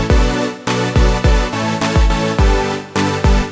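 Saw and square wave layered in a Serum synth patch play a punchy repeating plucked chord pattern with a deep bass thump on each hit, about eight loud, bright notes in quick rhythm.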